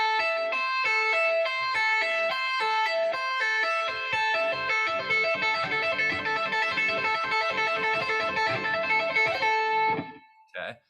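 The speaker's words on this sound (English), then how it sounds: "what I've got on my guitar setup is I've got kind of a slapback reverb on there" An electric guitar played by finger tapping through slapback reverb rolls out rapid, even, ringing note runs for about ten seconds, clear and sustained, then cuts off with one last short burst.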